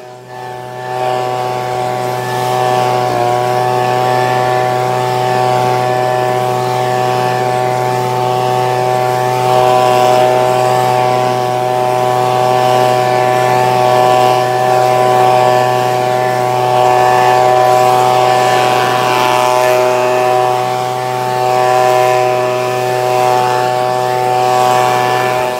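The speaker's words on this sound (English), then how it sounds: "this blower is better on gas than my Steel BG55 handheld leaf blower is" An Echo gas-powered leaf blower runs continuously up close, a loud steady two-stroke engine drone with a strong buzzing whine that holds for the whole stretch.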